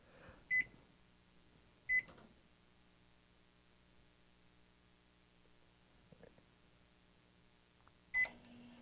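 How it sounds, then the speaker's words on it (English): Cheap dorm room microwave oven running, a faint steady hum broken by sharp electronic beeps near the start and end, with a few soft clicks in between. "a very cheap dorm room microwave"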